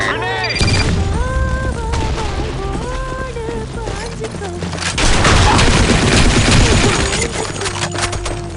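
Grenade blast and rapid gunfire in the online shooter BlackShot on the Sandstorm map, with dense volleys of shots and a heavy explosive burst midway, mixed with game voice callouts and effects.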